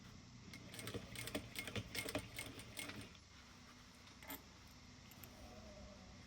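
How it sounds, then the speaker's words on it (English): A sewing machine bastes and back stitches a wallet, a quiet run of rapid stitching clicks for a few seconds, then near silence with a brief tap. "Just baste it at 1/4 inch. We're doing this just to keep it in place. I'm going to back stitch beginning and end."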